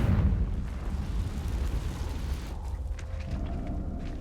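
In Hogwarts Legacy, a Confringo fire spell lands with a heavy, rumbling blast that booms loudest at the start, then fades into a crackling low roar with faint mechanical creaks.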